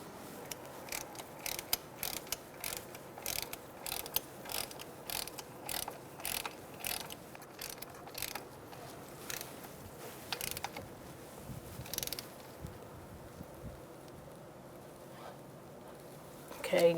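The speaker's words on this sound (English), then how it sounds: "Once you feel like you're in there, you can use your ratchet." Ratchet turning a brake hose banjo bolt on a 2007-2012 Nissan Altima front brake, giving a run of quick, close clicking strokes in repeated bursts, with no talking.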